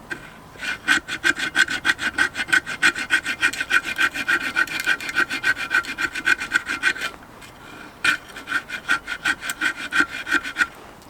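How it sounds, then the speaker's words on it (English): The spine of a knife scrapes fatwood in rapid rhythmic strokes, a close, raspy series of scratches that pauses briefly midway before resuming. "what I do is use the spine of my knife"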